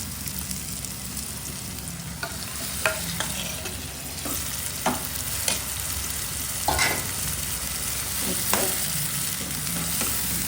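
Chicken frying in a pan for a green chicken gravy, with a steady oily sizzle and repeated scraping stirs of a spoon against the pan at close range, with no talk.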